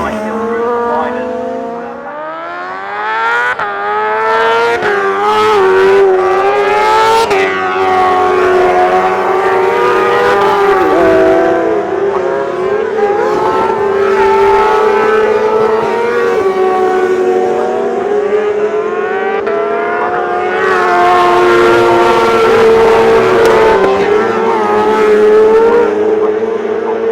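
Racing motorcycles, including a BMW, lap the Castle Combe circuit with a loud engine whine that rises and falls through gear changes as the bikes pass. A voice talks over the engines.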